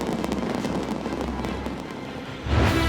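New Year's Eve fireworks burst over Queensland in a dense run of crackling pops, ending with a deeper, louder boom near the close.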